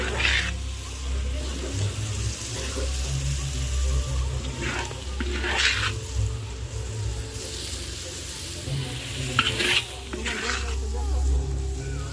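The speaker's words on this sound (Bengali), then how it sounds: "মশলা কষে নিয়েছি" Spice paste being sautéed in a pan for a home-cooked meal on Saraswati Puja, with a steady low sizzle, occasional scraping and stirring bursts, and faint background noise throughout.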